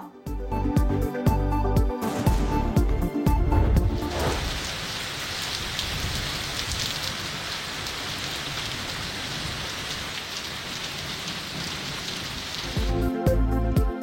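Torrential rain pours down in Rawalpindi and Islamabad, a dense, steady hiss lasting most of the stretch, with short musical stings before and after.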